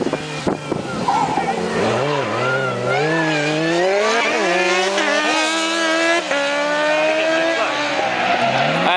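A race car on a circuit, engine screaming loud and close with rising and falling revs through gear changes, sustained throughout without talk.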